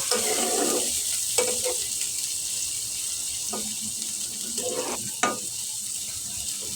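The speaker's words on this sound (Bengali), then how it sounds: "তেল দিয়ে পেঁয়াজগুলি নেড়ে চেড়ে ভেজে নেব।" Chopped onions sizzle and fry in oil in a pan, a steady hiss running throughout, with a few scraping stirs and clinks of the spoon at irregular moments.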